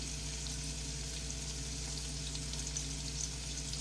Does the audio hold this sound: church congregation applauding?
no